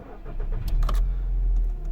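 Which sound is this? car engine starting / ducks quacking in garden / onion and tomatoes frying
car engine starting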